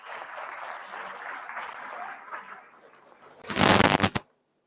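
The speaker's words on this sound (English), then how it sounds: "should we give a round of applause to all of our speakers?" Conference audience at a women's leadership event gives the speakers a round of applause, a steady patter that swells into a loud, dense burst near the end before cutting off abruptly.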